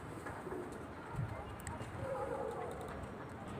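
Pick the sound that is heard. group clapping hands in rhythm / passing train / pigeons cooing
pigeons cooing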